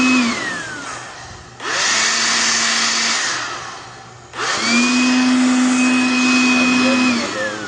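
A 2-in-1 vacuum blower tool runs in two long bursts, a steady loud motor whine with rushing air that spins up, holds, and winds down between runs.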